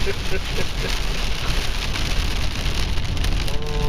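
Steady, heavy rain pours down in a continuous dense hiss with no breaks, loud and close throughout.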